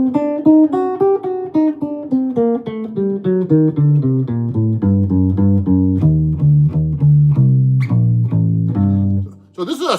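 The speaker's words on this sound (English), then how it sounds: "So G harmonic minor sounds like this." A G harmonic minor scale played note by note on a seven-string guitar, each plucked tone ringing clearly and stepping downward in pitch at an even, unhurried pace, played alone with nothing else heard.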